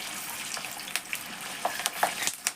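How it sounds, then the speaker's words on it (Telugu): Chillies fry in hot oil during a samosa cooking session, giving a steady, close sizzle with scattered sharp crackles and pops throughout and no voices. "మిరపకాయలు వేయించుతున్నారు."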